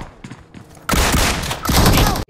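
Gunshots ring out in Apex Legends: after a few softer thumps, two loud sustained bursts of rapid fire follow back to back and cut off abruptly.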